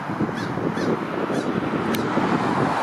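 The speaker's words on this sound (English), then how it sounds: "That's gotta be a crow." Crows caw a few times somewhere off in the distance beside Birchmount Road in Scarborough, Toronto, on a December day, faint against steady wind and street noise.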